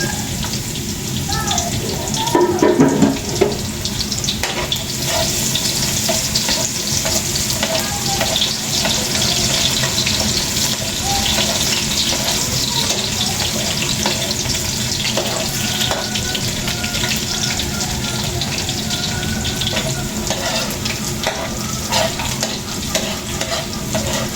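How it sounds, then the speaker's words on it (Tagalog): Spaghetti sauce with garlic and onion sizzles steadily in a pan while being stirred, a continuous close frying hiss with occasional scraping clatter. "Yan po tayo po ay nagigisa na yung sauce na spaghetti po."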